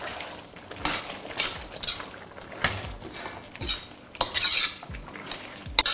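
Fried chicken and slit green chillies are tossed in sauce in a pan, producing repeated metallic clanks, scrapes and shuffling bursts at an uneven rhythm, close by with no talking.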